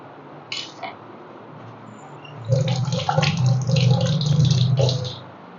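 Water runs and splashes as cut fish are washed in a kitchen, a close burst of pouring and sloshing for a few seconds after a couple of brief clinks.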